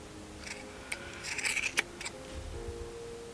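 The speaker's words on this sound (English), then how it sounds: "So all these loops, you're gonna get your scissors in there and you're gonna cut." Scissors snip through crocheted yarn loops on a Harley Quinn ear flap hat, giving a few faint, close cuts over a steady background hum.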